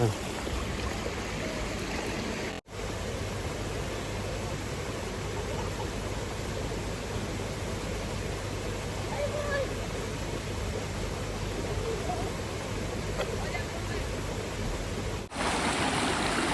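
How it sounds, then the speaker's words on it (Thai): Water rushes steadily past a river landing, a constant broadband wash, close and even, running without pause throughout. "ฟังเสียงน้ำ เย็นฉ่ำมากเลยทุกคน"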